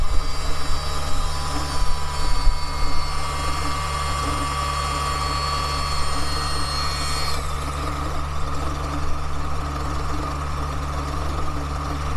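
The engine of an old skid loader runs at a rough, steady idle with a heavy low rumble, while a high whine fades out partway through.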